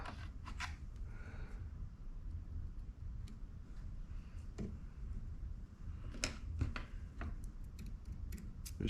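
Thread is snipped off a fishing rod wrap in a few faint, sharp clicks and snips, scattered and close, over a quiet room.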